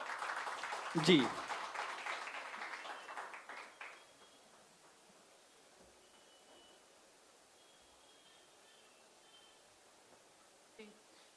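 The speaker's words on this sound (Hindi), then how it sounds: "ज़ोरदार तालियों से इनका इस्तकबाल करें" Applause from an audience at an Urdu mushaira in Mumbai, a moderate wash of clapping that swells, then fades out after a few seconds, with a brief spoken word, leaving near silence.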